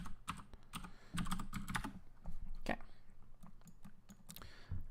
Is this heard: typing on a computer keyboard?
yes